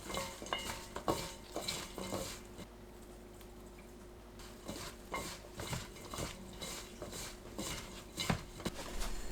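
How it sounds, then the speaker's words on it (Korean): Broccoli being mixed with powder in a bowl, with soft repeated scraping and stirring strokes and occasional light clinks against the bowl, close and fairly quiet. "섞어두었던 가루 넣어가면서 골고루 섞어주세요"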